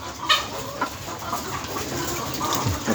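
Laying hens on a small poultry farm in Ghana cluck and chatter in short scattered calls over a steady background murmur, with no talking.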